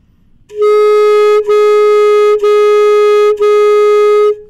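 A saxophone holds one steady note, re-tongued into four smooth, connected pulses with only tiny breaks between them, loud and close.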